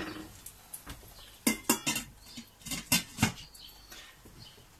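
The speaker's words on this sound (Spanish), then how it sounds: "Y tapamos." A lid set onto a frying pan holding a carrot and parsley omelette mixture, giving a series of close metallic clatters and knocks against the pan, with no talk.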